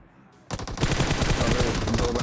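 Sudden burst of rapid automatic gunfire in the mobile game PUBG Mobile, loud and dense after a short quiet lead-in, continuing as a sustained fusillade.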